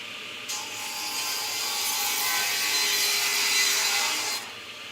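A table saw cuts through plywood on a cross cut sled, making one loud sustained rasping cut of about four seconds that starts and stops abruptly.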